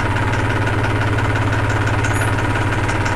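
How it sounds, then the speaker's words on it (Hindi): A tractor engine chugs steadily at close range as the machine begins rolling forward after the clutch is released, a loud, even low-pitched rumble with a regular pulsing beat throughout. "तो ये आपका चलने लगा है ट्रैक्टर"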